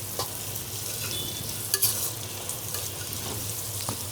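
Vegetables frying in mustard oil for a vegetable biryani, a dense steady sizzle up close with a few sharper spatula scrapes and taps, no speech.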